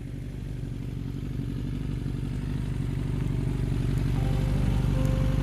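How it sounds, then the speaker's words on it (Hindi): A motorcycle engine chugs steadily at close range with a rhythmic mechanical clatter, growing slightly louder as it goes. "चवन्नी लाल ने अपनी मोटरसाइकिल स्टॉल के साथ रोकी"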